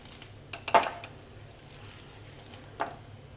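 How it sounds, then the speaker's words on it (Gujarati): A spoon mixes rava dhokla batter of semolina, sugar, chili paste and ginger paste in a bowl, giving a few quick clinks and scrapes near the start and one more later, soft and close with quiet gaps between. "આપણે બધી જ વસ્તુને બરાબર મિક્સ કરી લઈશું."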